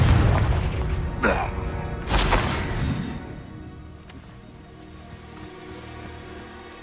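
Spell blasts go off in Hogwarts Legacy combat, with a heavy booming burst near the start and another around two seconds, then a lingering rumbling tail that settles into quieter background noise.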